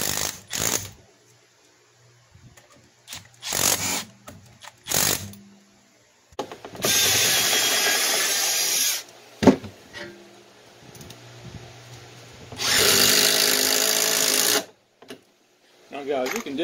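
A power drill runs in two sustained bursts of several seconds each while boring holes during front fork seal work on a 1999 Yamaha R1, loud and close, with short tool clicks and clunks between.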